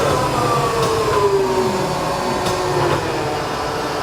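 Hardinge HC engine lathe spindle spins at 3,000 RPM, a steady mechanical whir with a faint descending whine and occasional ticks.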